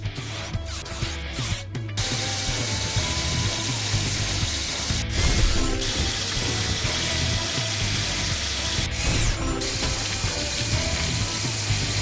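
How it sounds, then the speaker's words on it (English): Ratcheting, gear-like drill effect from a PAW Patrol rescue video game as the drill is placed, repeating steadily over a dense bed of game music for about twelve seconds. "Drill. Move this to place the drill."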